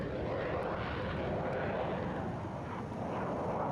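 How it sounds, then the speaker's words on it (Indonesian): Indonesian Air Force F-16 and Super Tucano fighter aircraft roar overhead during a military bombing operation on the southern coast of Lumajang, a dense, steady engine rumble filling the whole stretch with no talk. "Pesawat tempur TNI Angkatan Udara melakukan operasi militer di pesisir pantai selatan Lumajang"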